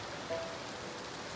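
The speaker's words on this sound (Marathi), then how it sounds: "भयानक पाऊस आहे." Heavy monsoon rain falls outdoors in a village, a steady soft hiss of drops with no talking, fairly quiet and even throughout.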